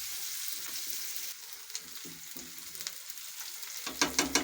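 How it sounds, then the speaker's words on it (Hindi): Onion and potato fry together in a pan for mini potato spring rolls, a soft continuous sizzle with light stirring taps that grow louder and quicker toward the end, with no speech. "इन सब चीज़ों को अच्छे तरीके से फ्राई कर लेते हैं"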